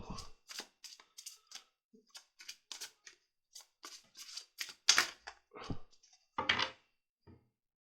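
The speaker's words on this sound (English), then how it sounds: "let's shuffle the tarot cards also." Irregular bursts of crisp papery rustling and flicking, close up, as tarot cards are shuffled, with short pauses between.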